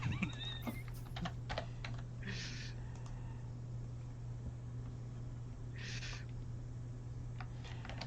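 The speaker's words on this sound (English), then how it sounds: "It's like their mic is next to their keyboard, so you hear it. It's super clear, like every key press." Computer keyboard keys clatter close to a microphone in an online tabletop role-playing session, a run of sharp clicks and taps over a steady low hum, with two brief louder bursts.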